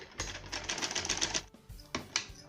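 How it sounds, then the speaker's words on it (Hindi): A sewing machine stitches a fall onto a saree, running in two bursts of fast, even mechanical chatter, the first long and steady, then a brief pause and a shorter run, close and fairly loud with no talking. "और अब मैं फिर से इसे राइट साइड पर रखूँगी और मैं इसे इस तरह से स्टिच करूँगी।"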